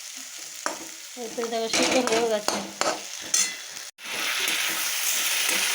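Potatoes and eggplant with a little onion and tomato fry slowly in a pan. A person talks briefly over soft stirring, then a loud, steady sizzle takes over.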